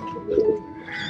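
A Parava breed pigeon gives a single short, soft coo, faint and brief against quiet surroundings.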